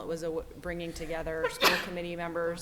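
A single sharp sneeze bursts out in a school committee meeting, briefly cutting through a woman's steady speech in the middle of the clip.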